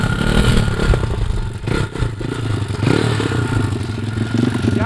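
Pit bike trike engine revving steadily up close while the rider balances the machine on two wheels, a continuous loud buzz with some clatter and scraping throughout.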